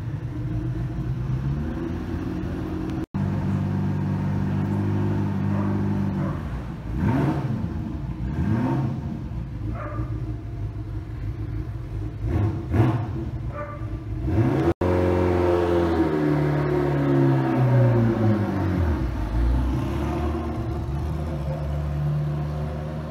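A Ferrari F40 LM at a hypercar gathering revs in several loud bursts. Its engine rises and falls in pitch through repeated throttle blips, over a continuous rumble close by.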